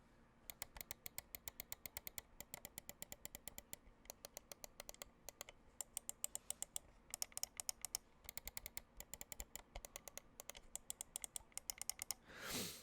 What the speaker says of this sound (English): I did that in left click, right click, middle click, mouse 5, mouse 4